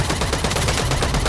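Gunfire in the video game Eve Vanguard, a short burst of rapid, loud shots with dense crackling impacts, close and continuous with no talk.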